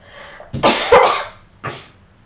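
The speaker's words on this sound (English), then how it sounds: "I'm gonna cough" A person coughs twice in a quiet room, a long harsh burst followed by a shorter second cough, close and fairly loud, with no talking.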